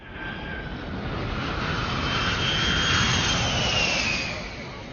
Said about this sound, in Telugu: the flight is taking of